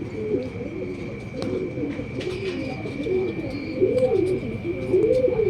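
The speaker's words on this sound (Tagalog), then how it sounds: "Ito yung kalapate." A racing pigeon coos repeatedly after landing from a 134-kilometre training flight from Plaridel, Quezon, soft rolling coos close by over a steady background hum and faint outdoor noise.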